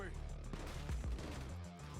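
Rapid gunshots crack over a busy soundtrack in a GTA 6 trailer, several sharp bursts close together amid rumbling effects, with a voice speaking faintly underneath.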